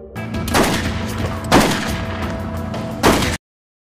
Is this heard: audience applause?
no